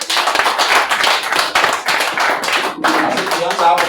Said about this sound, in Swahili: Mpige makofi nione.